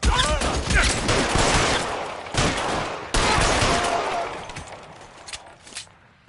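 Dense, loud bursts of automatic gunfire in a PS4 action game, rattling almost continuously with brief gaps, then thinning out and fading toward the end.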